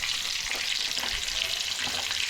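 Marinated sea fish frying in a pan gives a dense, steady sizzle that holds loud and even the whole time, with faint stirring underneath.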